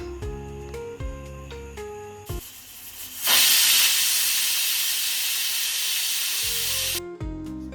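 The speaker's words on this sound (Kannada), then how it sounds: "ಲಿಡ್ನ ಕ್ಲೋಸ್ ಮಾಡಿ ಎರಡು ವಿಷಲ್ ಕುಗ್ಸೋಣ" Pressure cooker on the stove cooking chicken biryani lets out a loud sustained hiss of escaping steam for several seconds, framed by quieter clinking and kitchen sounds before and after.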